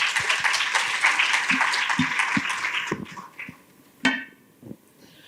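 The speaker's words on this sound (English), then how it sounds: "give a round of applause for Afu Tami" Audience at a panel event applauds in a fairly loud, steady burst for about three seconds, then dies away into a few scattered claps and a brief noise.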